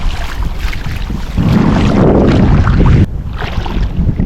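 Boat noise on open water with steady wind buffeting, rushing louder in the middle then easing, no voices.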